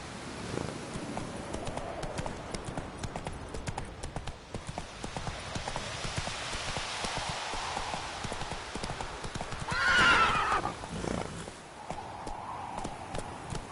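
Roach the horse galloping in The Witcher 3, rapid rhythmic hoofbeats pounding continuously with a neigh partway through, loud and close, no voices.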